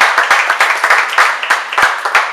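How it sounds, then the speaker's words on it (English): A live audience at the Allegria gives a short burst of dense, rhythmic clapping, loud and close, with faint voices mixed in. "a round of applause for the great Long Beach Police Department"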